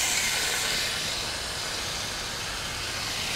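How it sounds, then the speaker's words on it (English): Mulloway fillets fry skin side down in hot oil over medium-high heat in a ceramic non-stick pan, giving a steady, close, broadband sizzle and hiss that holds evenly throughout with no talking. "I'm just gonna pan fry my Mulloway fillets, skin side first, just for a couple of minutes"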